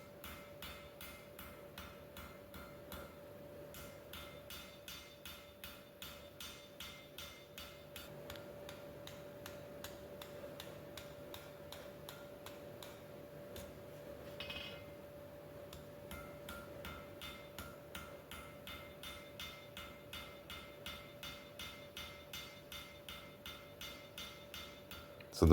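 Steady hammer blows upsetting the hot tip of a cut chisel at a forge, a regular ticking rhythm of dozens of strikes running throughout, moderately faint over a constant hum.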